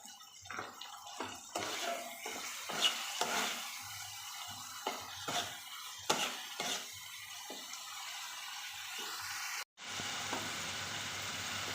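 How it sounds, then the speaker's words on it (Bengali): Spice paste with salt and a splash of water stir-fried in a pan for a sweet-and-spicy cabbage dish, with a spatula scraping in bursts over a soft sizzle, then a brief gap before a steadier hiss resumes. "তো আবার একটু জল দিয়ে মশলাটা ভালো করে কষিয়ে নেব"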